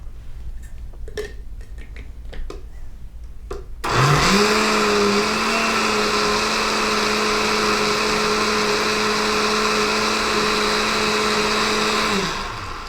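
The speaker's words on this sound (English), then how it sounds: "And we blend it again." After a few light clicks and taps, a kitchen blender whirs loudly at a steady high pitch for about eight seconds, puréeing gazpacho soup with garlic, then winds down.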